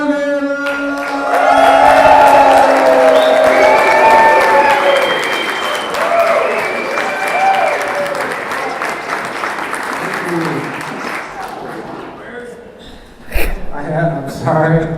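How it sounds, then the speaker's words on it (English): A Startup Grind Chicago audience breaks into loud, sustained applause with whoops and cheers for the guest, swelling early and holding steady before tapering off as a voice starts speaking near the end. "let's get up on our feet, scream and yell and cheer. Let's give it up for Logan!"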